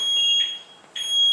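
Two sharp, bright electronic beeps from a 2017 Nissan X-Trail 2.0 Aero Edition key fob alarm ring out close by, separated by a short pause, with no talking.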